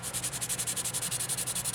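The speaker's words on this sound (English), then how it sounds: "I go in a cross sideways pattern and I start sanding." Ultra fine sandpaper rasps across the seam of a plastic Tamiya Ferrari SF70H model car in quick, even back-and-forth strokes, close up and alone.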